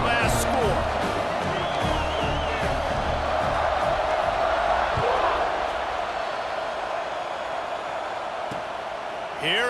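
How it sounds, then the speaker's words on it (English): A stadium crowd roars and buzzes steadily in the EA Sports College Football 26 video game, a dense, loud wash of cheering that holds throughout, with commentary voices underneath. "this crowd is buzzing after that last score"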